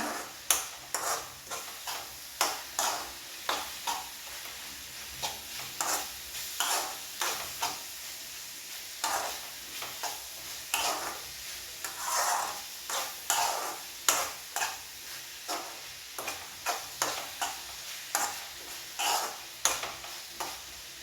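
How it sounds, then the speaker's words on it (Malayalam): Food is stirred in a frying pan for an iftar snack, with a steady rhythm of spatula scrapes and soft clatters over a gentle sizzle, close and continuous. "നന്നായിട്ട് ഇളക്കി കൊടുക്കുക"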